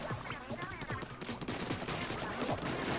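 Rapid bursts of explosive, popping combat effects from the Splatoon 2 video game, a dense run of crackling blasts with a voice talking over them.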